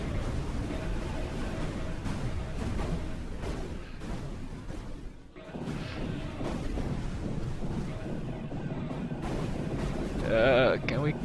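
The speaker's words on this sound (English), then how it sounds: "So many rockets, so many missiles, and that's all from the spiky plants. Constant bombardment is the name of the game." Rockets and missiles fire constantly in the space shooter Reassembly, a dense rumbling barrage of overlapping blasts and booms, with a voice talking over the onslaught throughout.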